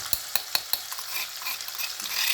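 A green chilli and garlic paste hits a hot tempering of cumin and asafoetida: four sharp spoon clacks against the pot come first, then a steady close sizzle builds with light stirring.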